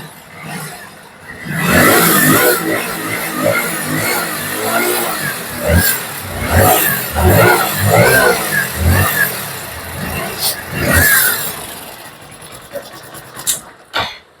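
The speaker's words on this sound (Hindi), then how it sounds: "चाबी को मारिए सेल्फ। चलिए गाड़ी बिल्कुल इजीली स्टार्ट हो गई" A car engine runs steadily after a self-start during a check of its ECM input and output, a moderate mid-range hum under continuous speech.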